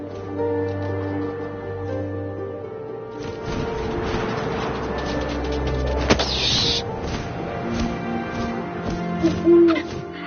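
An owl hoots in the video game What Remains of Edith Finch, a sustained low call over a game soundscape with a brief crash and a sharp thwack midway.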